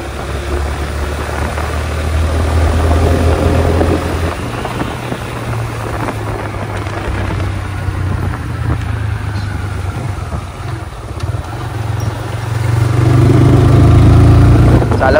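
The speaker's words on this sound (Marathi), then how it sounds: "येताना ती गाडी चालूया, बजाज पल्सर NS" A Bajaj Pulsar NS motorcycle engine drones loudly and steadily while riding, with a low rumbling hum, some wind rush, and a rise in intensity near the end.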